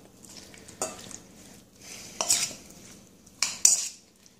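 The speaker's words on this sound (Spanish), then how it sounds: "toda esta pequeña marinación que hemos hecho. La vamos a mezclar bien" Spoon stirring and mixing a spicy chicken marinade in a bowl, a few scattered scraping and clinking strokes at close range with quiet gaps between them.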